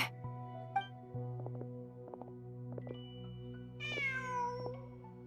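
A cat in the video game Genshin Impact gives a few quiet, separate meows, the last one longer and rising, set over a soft steady game ambience.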